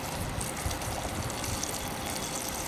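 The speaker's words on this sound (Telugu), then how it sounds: "ఇప్పుడు కొంచెం వాటర్ వేసుకుందాం దీంట్లో." Water poured into chopped ridge gourd in a pressure cooker, a steady, close gushing stream that continues evenly throughout with no voices.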